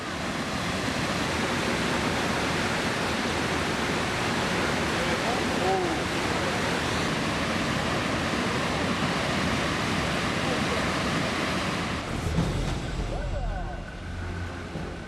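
A steady, loud roar of falling water at the waterfall on Alaska's Brooks River, where sockeye salmon run upstream, rushes on without pause and eases slightly near the end.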